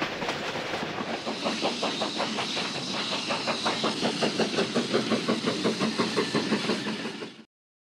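A moving train rattles along with a steady, rhythmic clickety-clack of wheels on rail joints and a low rolling rumble, holding constant for several seconds before cutting off abruptly.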